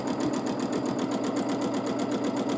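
A sewing machine runs steadily during free motion quilting, its rapid, even needle clatter close and continuous throughout.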